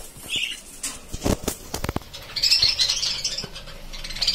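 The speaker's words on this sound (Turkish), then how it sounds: "Burada ise 3 tane sarı kuşumuz, 2 tane de ağ kuşumuz var." Pet parrots, among them yellow birds, flutter and flap their wings in quick bursts of soft whooshing and pattering, close by, with some faint chirps.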